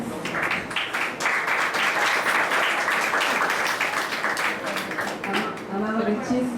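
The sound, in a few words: applause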